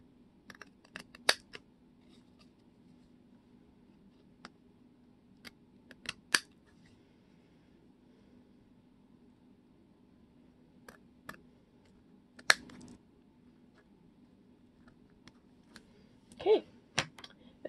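Scissors snip off a small bit of a paper cut-out during a going-green craft, leaving a handful of sparse, quiet clicks and snips over a faint steady hum.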